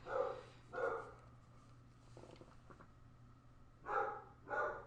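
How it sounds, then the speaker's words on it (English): A dog barks in four separate bursts, moderately loud against a quiet room with a low steady hum, with faint movement between the first and last pairs. "If you hear my dog barking"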